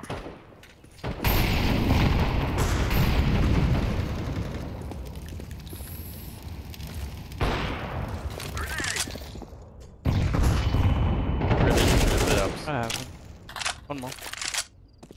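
Grenades going off in Counter-Strike 2: heavy, loud blasts and rumbling bursts, with a hissing, crackling tail that lingers after each one, as players talk over the action.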